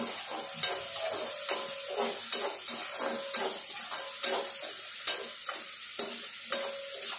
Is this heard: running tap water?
no